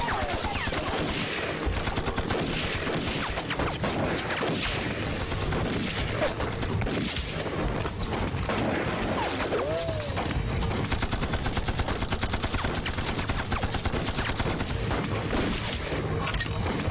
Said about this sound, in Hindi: मालिक वो गोली चला रहे हैं,